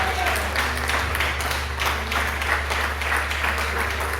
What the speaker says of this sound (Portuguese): Podemos aplaudir para o Senhor Jesus